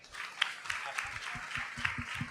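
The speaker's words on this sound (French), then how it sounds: "ok, applaudissez" Audience at a board-game industry talk claps, scattered moderate applause with uneven individual claps, while people speak over it.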